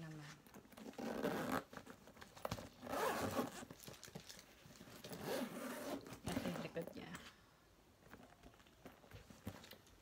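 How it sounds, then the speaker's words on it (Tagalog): A zipper on a Coach Sierra satchel bag is pulled in several repeated strokes, close and scratchy, with softer rubbing of the bag between pulls and someone talking quietly around it. "And then, zipper."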